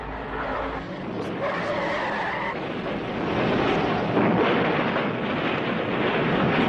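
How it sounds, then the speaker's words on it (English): A race car with a blown Hemi engine spins out on oil down the front straight of an oval track, tires skidding in a long, loud, sustained squeal amid wind-buffeted engine roar. "Freddie blew that Hemi in the 4th turn and spun in his own oil all the way down the front chute"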